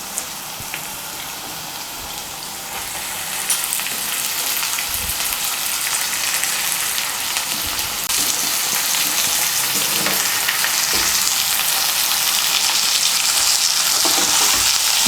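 Chopped radish greens frying in oil with potatoes in a pan, a steady close sizzle and crackle throughout with occasional stirring scrapes, no voices.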